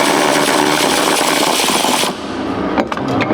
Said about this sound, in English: Power tools on there.